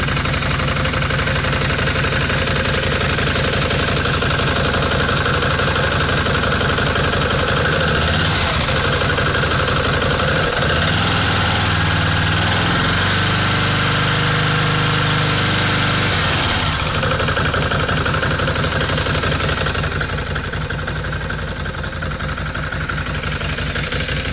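A cold Bombardier Outlander 500 ATV engine idles steadily at close range, a continuous mechanical rumble with faint knocking that shifts briefly midway before settling back.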